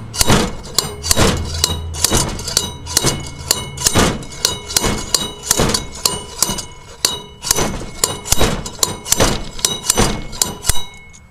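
Repeated sharp metallic hammer blows, roughly one per second, ring close by as an old wheel bearing is knocked out, with no talking.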